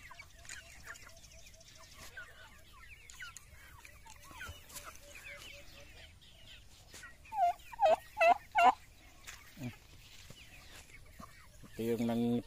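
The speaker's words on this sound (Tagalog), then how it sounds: "Ito yung nangitlog na pabo natin." Turkeys in a rural backyard flock give a quick run of loud, close gobbles over quiet clucking and soft background chatter, with a brief burst of noise at the end.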